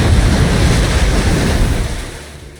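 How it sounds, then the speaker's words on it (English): Water waves rush in with a loud, broad wash of surf that fades over a couple of seconds, set in the Nikke x Stellar Blade video game. "the water is coming this way"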